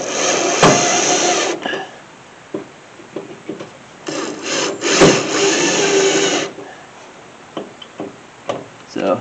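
A drill bores holes in a custom fender well on a Mustang. Two long, loud whirring bursts are separated by quieter clicks and handling knocks, all close up and with no talking.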